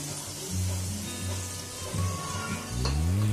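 Chopped onions dropped into hot oil for a mixed vegetable and methi curry, giving a steady broadband sizzle with low rumbling surges and a louder burst near the end, no voices.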